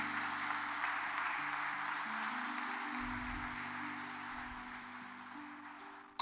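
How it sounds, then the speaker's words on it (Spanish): A congregation claps in church, sustained applause filling the whole stretch at steady loudness over low, held instrumental tones, fading slightly toward the end. "¿Alguien puede darle un fuerte aplauso al Señor?"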